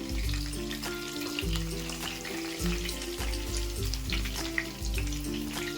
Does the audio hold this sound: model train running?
no